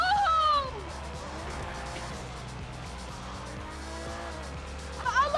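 A car spinning out in Grand Theft Auto, with screeching tire squeals at the start and again at the end over a steady engine drone.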